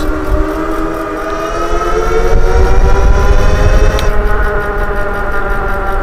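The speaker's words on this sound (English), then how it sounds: "it takes a couple seconds for that power to kick in, so you feel a little jolt there when you're in the high levels here with dual motors" A dual-motor EUY S4 Pro Max electric bike rides at high power, its motors giving a loud, steady whine with several harmonic tones rising slightly, over rough wind and road rumble, with no talking.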